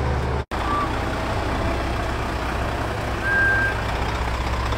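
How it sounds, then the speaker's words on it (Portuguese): Steady drone of a Volvo FH truck on a highway, a continuous rumbling road and engine noise with a brief dropout near the start. "meu sonho é comprar um caminhão desse aqui, mano"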